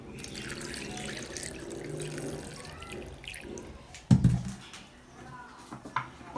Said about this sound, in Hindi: और अब हम इसमें पानी शामिल करेंगे।